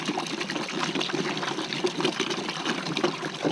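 Fresh water trickles and splashes into a beehive feeder during a hive inspection, a continuous close pouring sound that stays fairly even throughout.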